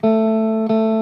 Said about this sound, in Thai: นั่นคือเสียงลานะครับ หรือเสียงสายสองเปล่านะครับ